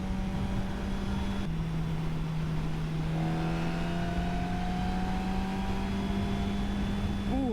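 A 2021 Suzuki GSX-S1000F motorcycle accelerates with a sustained engine drone. There is one abrupt gear change early on, then the pitch climbs steadily toward the end under constant wind rush, and no one talks.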